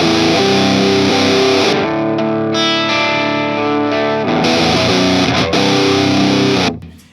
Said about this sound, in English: The cool thing is I can go from this kind of lower distortion.